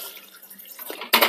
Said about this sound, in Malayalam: അതിലേക്ക് വെള്ളം ഒഴിക്കാം.